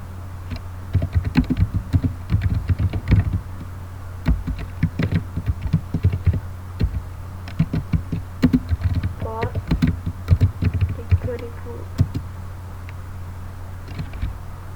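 Rapid keystrokes on a computer keyboard while entering a configuration command for a Packet Tracer VoIP setup, close and steady with irregular bursts of clicks and a brief pause near the end.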